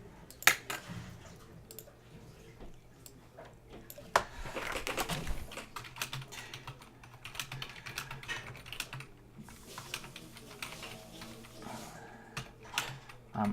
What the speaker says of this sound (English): Might be faster to type this.